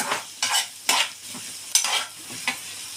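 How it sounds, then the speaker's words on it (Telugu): Pav bhaji vegetables, with beans just added, are stirred as they fry in a pan: several distinct scraping strokes over a soft continuous sizzle, close and clear with no talking. "కలుపుకోండి"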